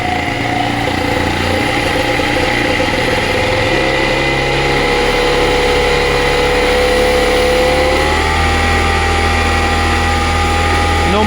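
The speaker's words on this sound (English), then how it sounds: "This is a really hot motor." A 78cc ATOM 80 two-stroke light aircraft engine runs loud and steady, its continuous buzzing drone stepping up in speed around the midpoint and again near the end.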